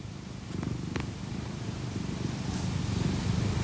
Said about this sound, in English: Not sure if you can hear Oscar purring.